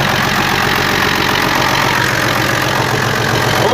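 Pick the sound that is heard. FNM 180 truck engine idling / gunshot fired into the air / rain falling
FNM 180 truck engine idling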